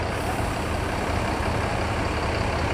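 A Mercedes-Benz OH1526 bus chassis with Laksana bodywork idles nearby, its engine giving a steady low diesel rumble with an even, unbroken drone throughout.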